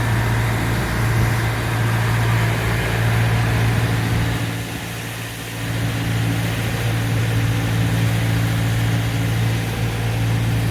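A small boat's engine hums steadily with a low drone as the captain steers it through a dock area in Annapolis, Maryland, dipping briefly midway before holding an even, continuous tone with no speech.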